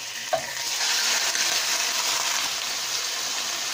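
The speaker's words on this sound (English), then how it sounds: "I'm going to fry them for a couple of minutes" Lamb liver frying in a pan with a loud, steady broadband sizzle and a brief knock near the start.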